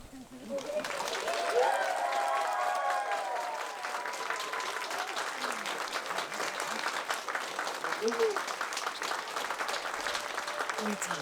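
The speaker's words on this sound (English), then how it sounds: "As Nathan and Bee exchange a kiss as husband and wife, please join me in giving them a round of applause" Wedding ceremony guests applauding and cheering a newlywed couple's kiss, a loud, sustained crowd of clapping with whoops and voices mixed in throughout.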